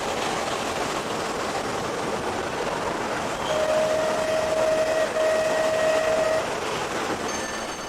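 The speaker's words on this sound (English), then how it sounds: "The engine is slipping slightly" Clan Line steam locomotive working hard with wheels slipping on weedy rail, a continuous rumbling chuff and rail noise with a long sustained whistle-like tone partway through, fairly close.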